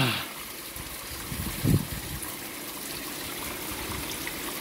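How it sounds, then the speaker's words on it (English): A small waterfall outdoors, pure water trickling and splashing in a steady, gentle stream, with a brief louder splash near the middle and faint background hiss throughout. "I found a small waterfall here."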